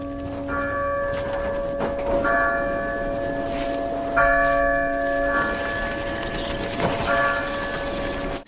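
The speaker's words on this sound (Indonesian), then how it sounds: "Suara lonceng ini berasal dari gereja yang dinyalakan biarawati" Church bells ring in repeated sustained chimes, several strikes with long ringing tones layered over steady background noise.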